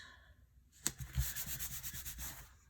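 A paper piece is rubbed down onto a card by hand, giving a short, soft scraping rub after a light tap, close and quiet.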